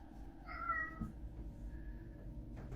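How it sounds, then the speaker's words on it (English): A house cat meows indoors, one drawn-out call with a brief second cry, fairly close but soft against a low steady background hum, with no talking. "My cat just keeps walking around meowing"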